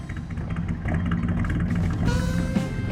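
A classic Chevy Stepside's engine rumbles at a steady idle nearby, a low continuous drone with slight fluctuations at a car show.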